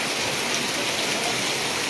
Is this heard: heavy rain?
yes